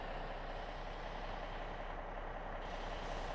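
Freight cars of a train rumbling along a new rail line in Workers & Resources: Soviet Republic, a steady, loud, continuous low roar and rattle with no pauses, heard alone without talk.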